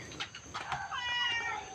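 A kitten meows at a temple in Lampang, Thailand, giving a few faint, high, drawn-out cries, the last one longer and wavering, over a quiet background.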